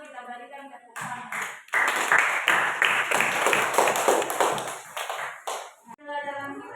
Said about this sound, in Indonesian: mungkin demikian presentasi dari kelompok 1, kita berikan tepuk tangan.